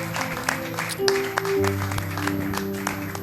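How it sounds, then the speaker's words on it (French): Church congregation applauding after prayer, with a dense wash of clapping over sustained keyboard-like tones; the clapping is moderate and steady, with possible faint cheers mixed in. "Est-ce qu'on peut acclamer pour le Seigneur?"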